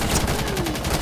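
Rapid automatic gunfire in Rainbow Six Siege fires as suppressing fire, a dense continuous burst of cracks that stays loud and steady throughout.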